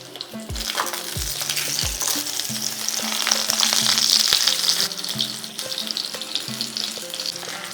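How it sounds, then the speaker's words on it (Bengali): Pieces of pointed gourd (potol) fry in hot oil, a steady close sizzle with occasional stirring scrapes, while soft background music plays underneath. "হালকা লাল করে পটলগুলোকে ভেজে নিয়েছি"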